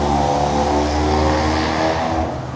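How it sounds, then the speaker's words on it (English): A car with loud exhaust pipes revs on a street, a loud, close, sustained engine roar that eases off toward the end, with no talking. "They love them loud pipes out here."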